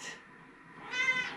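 A cat lets out two short meows close by in a quiet indoor space, the second louder and more drawn out.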